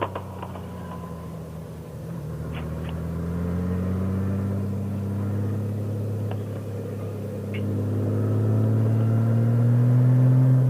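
A Honda GoldWing GL1800 motorcycle cruising on Deals Gap, the Tail of the Dragon, its engine drone rising and falling with gear changes under steady road and wind noise, continuous throughout.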